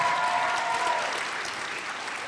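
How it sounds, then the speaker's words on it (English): A big round of applause from an audience at an MLK celebration event, loud and continuous at first and then gradually tapering off. "Let's give her a big round of applause"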